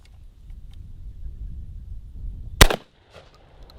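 One loud, sharp blast from a Hatsan Escort DF12 semi-auto shotgun firing cheap store-bought shells, a single close report that cuts off into quiet after a stretch of faint outdoor rumble.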